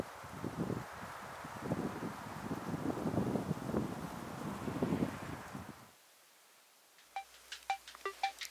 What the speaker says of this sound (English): It's a little chilly, it's a little windy